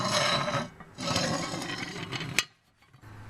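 Pins on the casting of an antique platform farm scale being cleaned by hand: close, raspy scraping strokes in two bursts of rubbing, then a sharp click and near silence.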